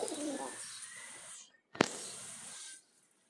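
A Jalali pigeon held in the hand gives soft, close cooing in two short bursts separated by a brief pause.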